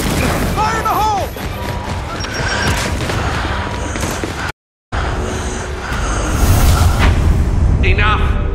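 Gears 5 Gridiron match: grenade explosions boom loudly amid bursts of gunfire, with game voices and shouting over the chaotic battle noise and a brief dropout midway.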